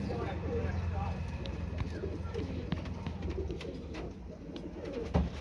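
A pair of Lakha Australian pigeons coo softly and repeatedly at close range, with low rustling and shuffling underneath throughout.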